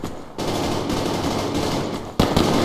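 Rapid automatic gunfire from a weapon in the shooter game Survarium, a loud, dense continuous burst that briefly cuts out and then resumes.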